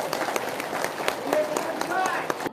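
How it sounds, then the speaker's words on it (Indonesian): A seminar audience claps together in a steady burst lasting a couple of seconds, mixed with crowd murmur and a few voices, then it cuts off abruptly. "Tepuk tangan dulu."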